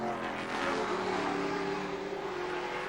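Sports sedan race cars, including an Alfetta, on a track, their engines holding a steady loud drone with shifting pitch, continuous and fairly near.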